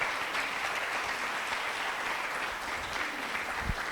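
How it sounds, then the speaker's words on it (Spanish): Church congregation applauding steadily during a Spanish-language service, a dense continuous wash of clapping from a room full of people with no talk over it. "aplauso a Dios"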